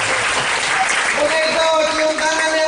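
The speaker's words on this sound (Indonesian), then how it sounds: "tepuk tangan buat mereka berdua." A crowd at a Maulid Nabi religious gathering gives a short burst of dense, loud applause, with voices heard over the clapping.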